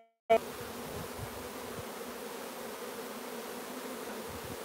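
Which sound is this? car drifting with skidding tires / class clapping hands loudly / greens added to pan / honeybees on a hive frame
honeybees on a hive frame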